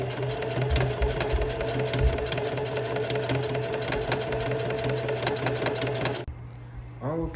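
A sewing machine stitches a pair of jeans legs back together, a fast, steady mechanical chatter running continuously near the microphone before stopping abruptly, leaving a brief quiet tail with faint clicks.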